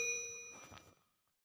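A single bright bell ding rings out and fades over about a second, followed by a short softer clang, then near silence.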